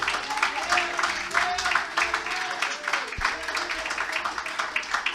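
Congregation at a Portuguese-language church sermon giving the Lord a strong round of applause, dense rhythmic clapping with a voice speaking over it and one sharp thump partway through.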